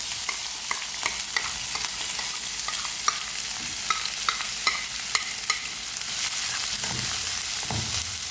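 Onions, curry leaves and chillies frying in a pan after spluttering mustard seeds, for a prawn kurma: a constant loud sizzle broken by regular clicking strokes of a stirring spoon.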